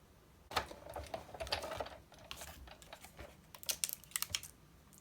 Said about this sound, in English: I'm only going to cut this piece the second time using the next larger frame.